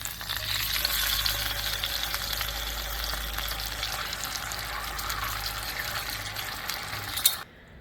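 Chicken sizzling in hot oil in a pan, a continuous crackling hiss that stays fairly steady and close for several seconds, then stops abruptly near the end.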